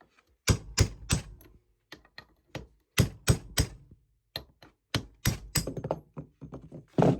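A rusty pilot bearing on a KE70/TE72 gets driven out with a series of sharp metallic hammer taps, irregular bursts of two to four blows separated by short pauses, close and loud with no talking.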